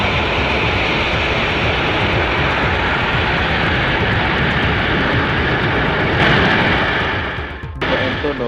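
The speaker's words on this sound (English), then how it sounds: "Antonov AN-124 is a strategic airlift quadjet." An Antonov AN-124 strategic airlift quadjet roars with a loud, continuous broadband jet-engine rumble that holds steady throughout and drops off briefly near the end.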